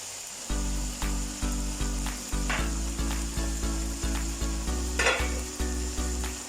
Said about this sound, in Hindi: अब इसको 2-3 मिनट के लिए पकाना है।